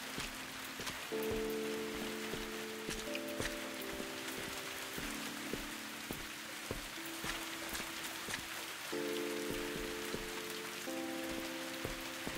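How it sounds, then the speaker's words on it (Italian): Steady rain patters on a surface throughout in the video game Viewfinder, with soft sustained musical tones shifting in the background. "Fuori piove."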